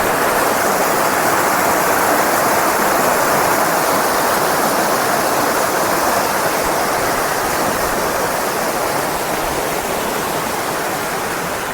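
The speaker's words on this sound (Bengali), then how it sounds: "এই জলটা এখান থেকে প্রায় পাঁচশো ফুট নিচে নেবে ঝর্নার রূপে ওখান থেকে পড়ছে" Bamni Falls at Ajodhya Pahar, water plunging roughly five hundred feet, a loud steady broadband roar that fills the whole span without pause or voices.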